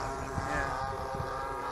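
A model plane's 26cc CRRC petrol engine drones in flight, its buzzing note faltering and sputtering briefly as it coughs, heard from a distance over wind noise.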